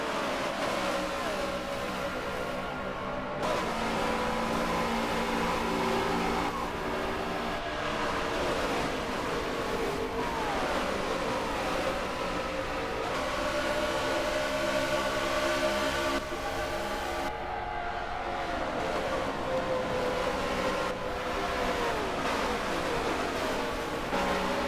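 Race cars roaring into the start of an oval race at Homestead-Miami, a dense, steady wall of engine drone with shifting pitches from a pack of cars, continuous and loud throughout.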